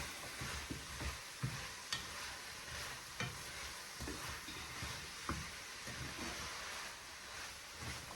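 Vegetables stir-frying in a pan for spaghetti stir fry, a quiet continuous sizzle punctuated by irregular soft knocks and scrapes of stirring, fairly low in level with no speech.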